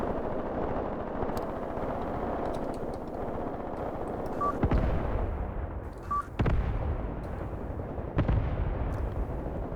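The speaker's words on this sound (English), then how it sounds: "A machine gun from the town is engaging." Machine gun fire and artillery from the Mius Front battle in the war game Graviteam Tactics. Distant booms and sharp bursts come at irregular intervals over a rumbling battlefield background, with no talking.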